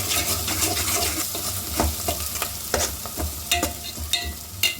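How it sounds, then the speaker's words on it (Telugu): Onion, green chili, turmeric and ginger-garlic paste frying for a chicken curry, with a steady close sizzle broken by repeated scraping stirs and light clicks of a spoon against the pan. "ఉల్లిపాయ పచ్చిమిర్చి ఈ పసుపు వేగిన తర్వాత దీనిలో అల్లం వెల్లుల్లి పేస్ట్ కూడా ఒక స్పూన్ టీ స్పూన్ వేసుకొని వేయించుకోవాలి"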